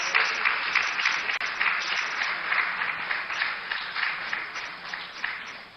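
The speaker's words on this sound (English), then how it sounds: "Ladies, a round of applause." An audience at an International Women's Day dialogue event applauds steadily, a dense wash of clapping held at an even level for several seconds.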